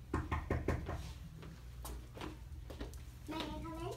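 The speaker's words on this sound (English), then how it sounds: "Then there was a knock at the door." A knock at a door during a children's drama camp play sounds as a few quick raps at the start, with children's voices talking over and after it.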